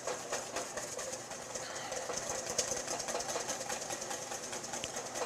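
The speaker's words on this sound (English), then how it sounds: "I'm just going to whisk until I see that it has that creamy, custardy, vanilla pudding texture" A whisk beats hollandaise egg mixture in a bowl set over a double boiler, producing rapid, continuous metallic scraping and clicking strokes at a close, even rhythm with no talk.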